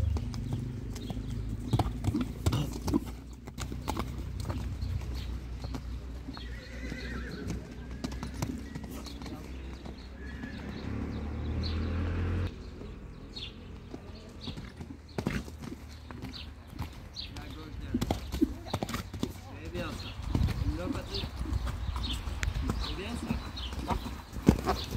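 Horse hooves clop rhythmically on the ground during a show jumping lesson over cavaletti, a steady close beat with occasional snorts, heard under a person talking throughout.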